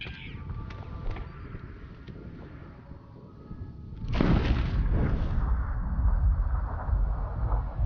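A gunshot from the video game Fallout: New Vegas lands as a deep, booming report partway through, followed by a sustained low rumble and noisy wash, after quieter game sounds and faint tones before it.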